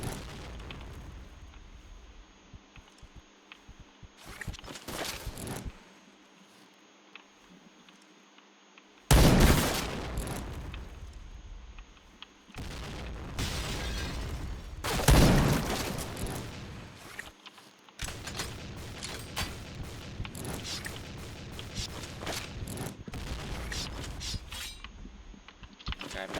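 Repeated booming blasts from grenade explosions in the shooter game Point Blank, loud and close, separated by stretches of quieter rumble and gunfire-like crackle.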